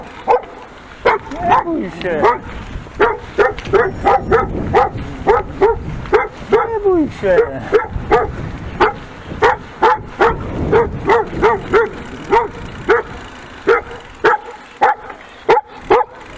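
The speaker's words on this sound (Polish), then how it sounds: "Taki piesek, co tam chodzi." A small dog barks repeatedly in quick, rhythmic yips along a road on the edge of Ligota and Czechowice-Dziedzice, loud and close, with someone speaking calmly over and between the barks.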